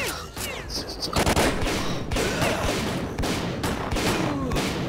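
Dense, continuous gunfire from S.T.A.L.K.E.R.: Call of Pripyat, a video game, with rapid overlapping bursts and shots filling the scene at high volume, no speech.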